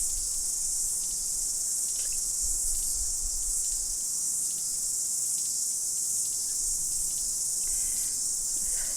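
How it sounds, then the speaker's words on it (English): Male and female cicadas fill the air with a dense, steady high buzzing drone that holds throughout, with faint scattered clicks mixed in and a soft low rumble beneath. "vibration that you hear is the male cicada. But if you listen a little bit more closely, you can hear the clicking, which is the female cicada."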